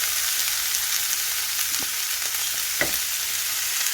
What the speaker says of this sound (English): What she put in there is leek, oil, and some mushroom seasoning.